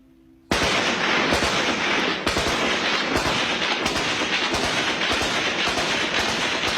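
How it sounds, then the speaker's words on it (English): Tribesmen's firearms discharging in the Khyber Pass on the northwest frontier, a sudden loud onset of dense, continuous gunfire with repeated sharp cracks and bursts over about six seconds, no voices. "these days the tribesmen use their firearms the way we use fireworks"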